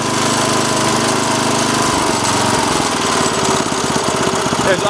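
A Sears Craftsman rototiller engine revs from a lower speed up to high speed at close range, giving a loud, rapidly pulsing chug that speeds up and tightens.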